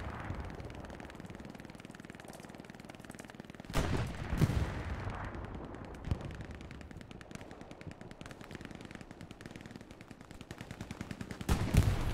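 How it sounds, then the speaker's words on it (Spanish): Video game naval battle bombardment: rapid, dense gunfire crackles continuously, punctuated by several heavier blasts, all at moderate loudness with little talk. "Bombardeo vamos, puede hacer mucho daño."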